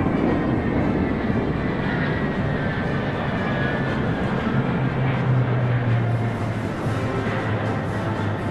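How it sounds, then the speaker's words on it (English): A Y-20 large military transport plane passes over a parade, heard as a steady, broad, moderately loud jet roar with no talk over it. "The Y-20 is a large-sized transport plane."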